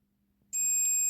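Steady electronic continuity beep from an old multimeter with a terminal wire removed, sounding abruptly and holding as one continuous high tone, clear and close with no talk.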